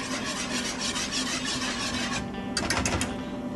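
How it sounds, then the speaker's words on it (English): Heavy cream and a white wine reduction, made with chardonnay, whisked in a pan, giving a continuous close scraping and rubbing that runs steadily throughout, with a few brighter clinks of the whisk near the end. "Give that a little whisk."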